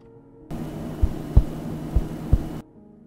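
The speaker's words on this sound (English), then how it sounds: "Why is my heart beating in the game?" A heartbeat in a spooky video game: four heavy, low thumps in an uneven double rhythm over a droning hum, starting and stopping abruptly, with no talk.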